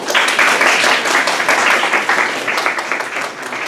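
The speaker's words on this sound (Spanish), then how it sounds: "Por favor, la recibimos con un fuerte aplauso." Strong, full applause from a university audience welcoming a speaker, many hands clapping close and loud in a dense, slightly pulsing roar that holds steady throughout.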